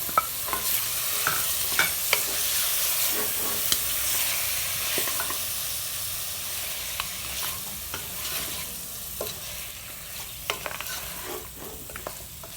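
Chopped tomatoes stirred into frying masala for goat trotter paya, a spoon repeatedly scraping and clacking against the pan over a bright, continuous sizzle, close and uneven in rhythm.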